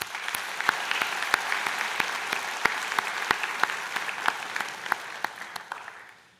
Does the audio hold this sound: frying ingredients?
no